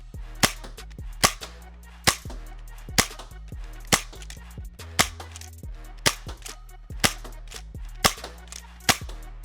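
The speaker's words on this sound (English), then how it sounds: "So let's take it out to the range and get some shooting going." Rapid series of snappy pops from an Adventure Force Desperado foam dart blaster at a range, about a dozen evenly spaced shots over a low steady hum.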